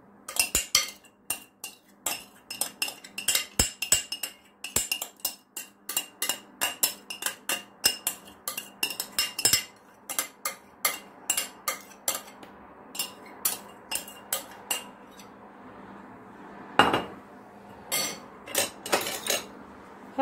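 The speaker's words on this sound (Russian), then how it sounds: "Хорошенько перемешиваем." A utensil stirring bulgur salad in a bowl, making a long run of quick clinks and scrapes in uneven bursts, close and fairly quiet, with no voices.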